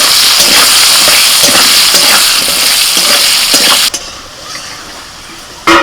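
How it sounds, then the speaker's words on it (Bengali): Potatoes frying in hot oil with a pinch of salt and turmeric, a loud dense sizzle with stirring scrapes for several seconds, then it drops suddenly to a quiet hiss before a brief burst returns. "তেল গরম হয়ে গেছে, আলুগুলো ভেজে নেবো"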